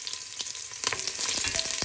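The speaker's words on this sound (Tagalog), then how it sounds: "ginigisa ko pala yung karne kasama yung onions and luya" Pork sizzles in a pan with onions and ginger, a steady close frying hiss with a few sharp spatters and stirring scrapes, louder in the second half, with no voices.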